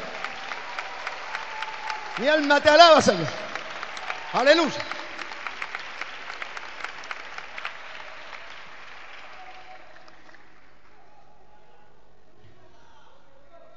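A church congregation claps steadily in rhythm while a man sings praise over the clapping, which fades out to near silence in the second half.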